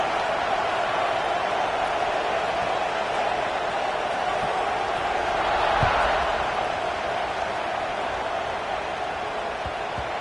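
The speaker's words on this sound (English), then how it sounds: "this crowd is buzzing after that last score" A football stadium crowd buzzing after a score in an Auburn at Utah college game, a steady loud roar that swells briefly midway and holds without a break.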